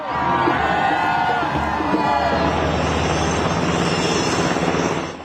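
A helicopter carrying freed hostages flies over southern Israel, its steady engine and rotor drone holding over a crowd murmur throughout, loud and continuous before easing slightly at the very end.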